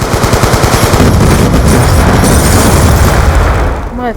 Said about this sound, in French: Bref, grenade launcher.